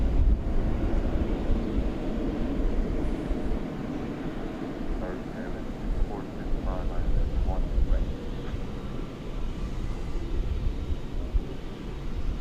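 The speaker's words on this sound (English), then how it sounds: "the aviation stylings of American Flight 1949. An Airbus A321neo coming in" Airbus A321neo airliner on American Airlines flight 1949 landing at DFW airport, a steady roaring jet rumble heard from a distance with wind buffeting the microphone throughout.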